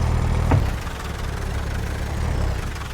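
Two tractor engines in a farming video game run steadily, a low rumbling drone with a faint knocking pulse and one brief higher whine early on, continuous and fairly loud, with no talking.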